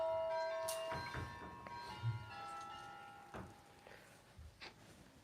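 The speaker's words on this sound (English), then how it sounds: "Someone is at the doorbell." A doorbell rings with sustained bell-like chime tones that ring out and fade, followed by a few fainter strikes at moderate distance.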